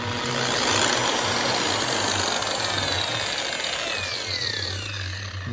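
A Makita 9227C buffer, running after a controller replacement, roars loudly and steadily with a harsh whine throughout, alone.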